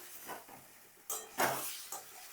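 Potatoes and fried pointed gourd go into a pan of spice masala, making a few soft clatters, scrapes and a brief sizzle in otherwise quiet surroundings.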